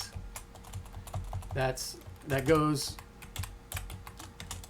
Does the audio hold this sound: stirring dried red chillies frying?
no